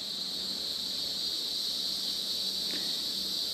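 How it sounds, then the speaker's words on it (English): A steady, high-pitched drone of cicadas buzzing in dry July weather fills the air continuously at an even, moderately loud level with no pauses. "You can always tell after about the 4th of July when the cicadas sound changes"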